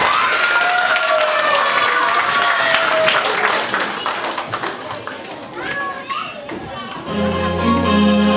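Audience applause and cheering at a Maslenitsa folk celebration, loud and dense with children's voices mixed in, continuing for several seconds before a musical tone cuts in near the end.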